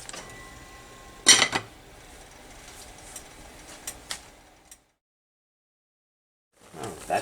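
Metal lid set onto a pot of boiling Kraft macaroni on the stove, a sharp clank near the start followed by a few lighter clicks and rattles, then silence before faint noise returns.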